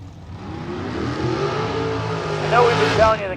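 A Chevrolet drag race car at a West Coast bracket race accelerates hard, its rising engine note climbing in pitch as it pulls away, with an announcer's voice running over the roar.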